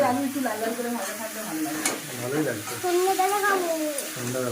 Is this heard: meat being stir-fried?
yes